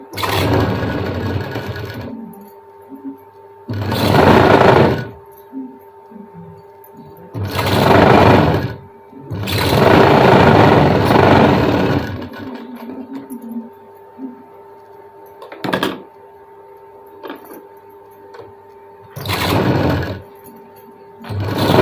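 A sewing machine double-stitches a blouse, running in several loud bursts of a few seconds each, with quiet pauses between them; the machine sounds close and nobody speaks.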